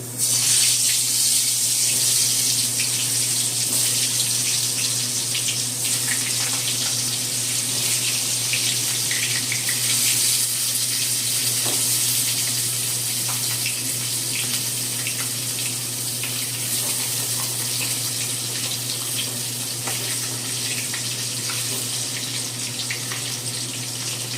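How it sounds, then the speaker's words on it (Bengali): Pointed gourd fries in mustard oil in a wok, a loud, steady, close hiss that runs continuously with little change. "কড়াইতে সর্ষের তেল দিয়ে দেবো।"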